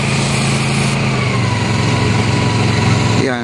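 A floor cleaning machine's engine drones loud and steady at a Plaza Mexico floor-polishing job, a constant mid-pitched hum that drops off near the end.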